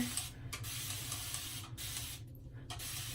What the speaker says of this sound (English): I'm going to start by wetting my hair.